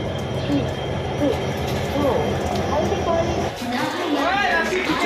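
Train at a station where the locomotive is being changed for a WDG4 diesel, giving a steady rumble and clatter with squealing metallic screeches near the end. Voices talk over it throughout.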